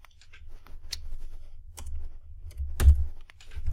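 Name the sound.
typing a name on a computer keyboard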